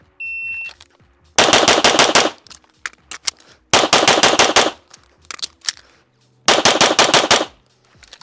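Pistol fire on a range during a USPSA practice stage run: three loud bursts of rapid back-to-back shots, separated by short pauses, with faint movement sounds between strings.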